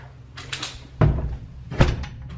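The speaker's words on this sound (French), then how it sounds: "Je me permets de refermer la porte." A door swinging shut in an abandoned gothic manor, with two solid low thuds about half a second apart and some faint rustling and handling noise before them.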